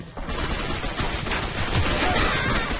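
Gunfire in the video game Gotham City Impostors, a loud, dense spatter of rapid shots running throughout, close and continuous, with no clear talking.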